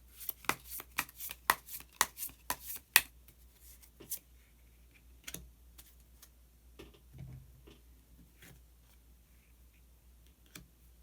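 Tarot cards are shuffled and drawn, giving a quick run of crisp slaps and flicks followed by sparser, softer clicks and rustles in a quiet room.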